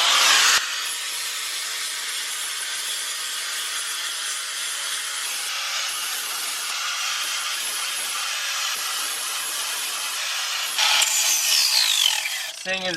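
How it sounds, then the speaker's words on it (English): Grinder scouring old gasket material off a cylinder head deck being prepped for a JB Weld repair, a steady loud high-pitched abrasive whine running continuously with a sharper burst near the end. "We just want to grind all that gasket and shit off"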